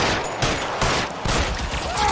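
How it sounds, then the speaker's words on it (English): Dense video-game gunfire rattles nonstop, layered bursts of automatic and rapid shots crowding together at close range, with faint voices underneath. "What the heck is shooting?"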